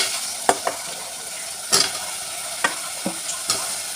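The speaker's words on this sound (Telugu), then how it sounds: "మటన్ కాళ్ళు వేసుకొని కలుపుకోవాలండి." Mutton trotters sizzle softly with tomato in a pan while being stirred, with several sharp scraping clinks of the spoon against the pan over a quiet frying hiss.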